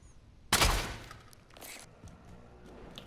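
Gunfire in a video game set around a bunker: one loud burst of shots up close, then quieter scattered shots and thuds as the fight continues.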